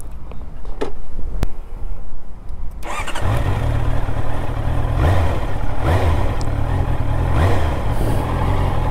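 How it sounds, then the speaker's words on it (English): A Honda CBR650R motorcycle's engine and exhaust go from quiet rumbles into a steady, loud revving drone with rising and falling pulses, heard close up while riding, with no talk. "the exhaust sound that you hear in this video is just only audible to the rider or the pillion"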